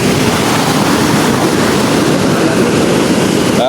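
High floodwater surges beneath a bridge after heavy rain, a steady, loud broadband roar of rushing water that holds unbroken throughout, with no voices.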